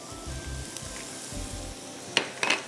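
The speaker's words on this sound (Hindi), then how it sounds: "प्याज थोड़ी सी हल्की सी सौटे हो जाए, उसमें आप लहसुन डाल दीजिए" Garlic sizzles as it is added to onions frying in a pan. A soft, steady crackle of frying runs throughout, broken by a few sharp utensil clinks and scrapes near the end.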